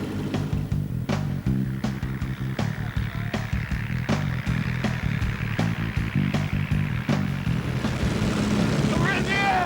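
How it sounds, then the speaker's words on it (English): A WW1 biplane's engine chugs with a steady, rhythmic low-pitched pulsing as it taxis across an airfield toward takeoff, with sharp periodic knocks and wind noise alongside. "We're just taxiing across the airfield, turning into the wind."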